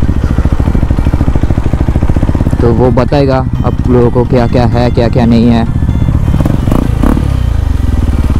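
A KTM Duke 390 fitted with an aftermarket exhaust idles close by with a loud, steady, throbbing rumble, while someone talks over it throughout.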